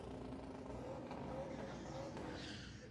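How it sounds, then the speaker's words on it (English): Supercharged big-block 1970 Chevelle drag car roaring at a drag strip during race week, a loud sustained engine drone mixed with crowd and track ambience, with a commentator's voice running over it. "That's what a 70 Chevelle should sound like."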